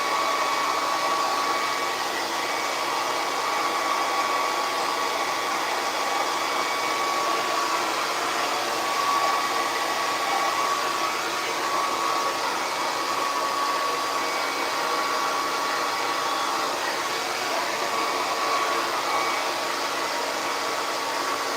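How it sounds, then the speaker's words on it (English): A blow dryer drying curly crochet hair, a continuous loud whirring hiss with a faint steady whine, unbroken and close for the whole stretch, without any talking. "if you have a blow dryer, you can get a diffuser comb for the end of it"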